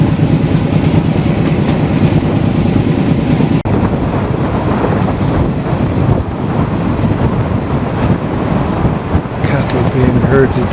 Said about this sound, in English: the diesel running behind is tending to muffle the sounds of the steam locomotive at the front of the train